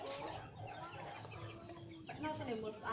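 Joper chickens, including a five-month-old hen that has just laid her first eggs, cluck and murmur close by in a farmyard, with soft bird calls scattered over a steady background.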